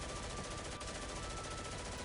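Rapid gunfire rattling from all directions in the video game Granblue Fantasy, a dense continuous barrage filling the whole clip with no pauses.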